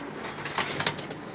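Carrier pigeons coo softly inside a breeder's loft, a couple of low rounded calls rising close by over a quiet room with faint rustling.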